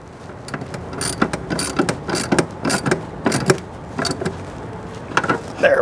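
A screw being tightened on the AC line of a 2003-2020 Chevy Express van, a rapid series of repeated ratcheting clicks in short bursts, close and fairly loud.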